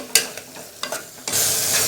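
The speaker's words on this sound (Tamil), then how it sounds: "ஒரு அரை நிமிஷத்துக்கு கிளறுங்க" Garam masala and chili powder fry in a pan while being stirred, a few quick scraping strokes of a spoon followed by a sudden loud, steady sizzle, close up with no talk.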